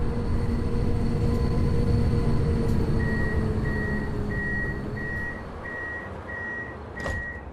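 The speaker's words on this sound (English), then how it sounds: "And hear that beeping, the doors are gonna shut." Rapid regular beeping of a tram door warning in a city tram simulator video game rings out over a steady mechanical rumble, repeating evenly for several seconds, then a sharp clunk.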